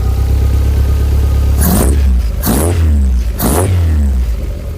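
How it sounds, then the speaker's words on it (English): A Skoda engine with a misfire is revved three times in short bursts, each rev spluttering and rising then falling back to a steady idle rumble, close and loud with no voices. "Bit of a misfire. It'll splutter when you rev it"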